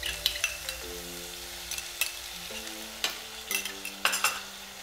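Tomato purée stirred into a frying ginger, garlic and chili paste, with repeated spoon scrapes and clinks over a steady close sizzle, no voices.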